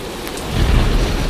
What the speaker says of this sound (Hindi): यह तो बहुत जोर की बारिश आ गई